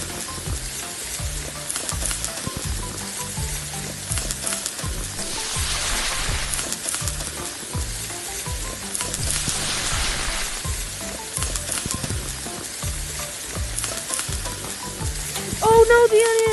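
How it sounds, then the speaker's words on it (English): Onions sizzling on a grill in a food truck video game, a continuous loud frying crackle with rhythmic pulses beneath it and a brief louder burst near the end, with no speech over it. "Throw some onions on the grill."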